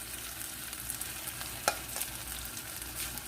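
Oil, tomato paste and onions fry with turmeric in a pot for Nigerian jollof rice. A constant soft sizzle runs throughout, broken by a few sharp stirring clicks, with no voices.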